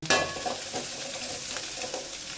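Cashews roast in a hot pan, with a steady sizzle and stirring scrapes, one loud burst near the start, then a few light clinks throughout; no voices.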